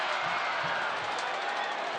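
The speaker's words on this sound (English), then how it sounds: "Crowd coming alive." A soccer stadium crowd roars in a steady, dense wash of cheering during a Tampa Bay Rowdies versus Miami FC match, heard from a distance without clear individual voices.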